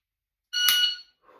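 Electronic shot timer gives a single loud, piercing beep about half a second long at a shooting range, followed by a brief faint sound afterward.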